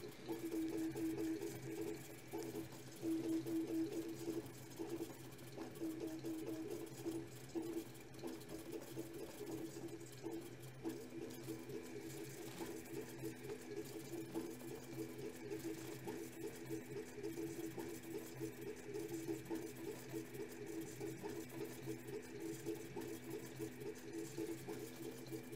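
A 3D printer driven by a Creality Sonic Pad runs at high speed, its steppers producing a steady, continuous mechanical whir with a tonal hum throughout, fairly even and unbroken for the whole stretch.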